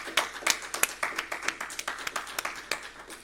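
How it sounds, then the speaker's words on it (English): An audience applauds a lifetime achievement winner at a New Hampshire press association journalism awards event, a small group clapping in a steady rhythm of distinct, fairly faint claps. "Let's please have a round of applause, maybe a standing ovation out there"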